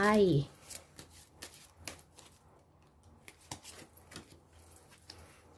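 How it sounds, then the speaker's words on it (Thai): Fortune-telling cards are shuffled and drawn close by, a brief voice at the start giving way to quiet crisp flicks and snaps of cards scattered irregularly throughout. "ขอเปิดไพ่ใบสุดท้ายก่อนจากกันไป"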